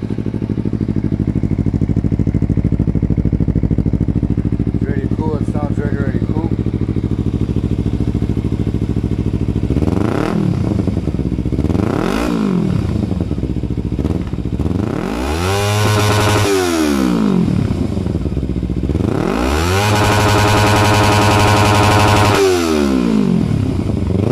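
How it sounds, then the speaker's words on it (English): A Kawasaki Ninja 300 with a modified aftermarket exhaust revs up three times in close range, each sharp rise and fall in pitch standing out over a steady idle, with no talking. "Let's listen to this exhaust."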